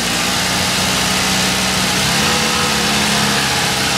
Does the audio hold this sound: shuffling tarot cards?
no